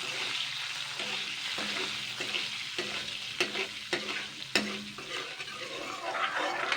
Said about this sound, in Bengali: এবার জাস্ট আলুগুলো হালকা করে ভেজে নেবো এবার দেখুন নুন হলুদ দিয়ে দিলাম